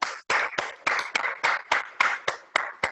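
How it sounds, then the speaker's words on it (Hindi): Audience at a training session clapping in short, sharp, evenly spaced bursts, about a dozen claps over three seconds, close and fairly loud with no talking. "एक जोरदार तालियों के साथ हम अभिनंदन करते हैं हमारे double diamond leader mister Ravi Sharma ji के लिए।"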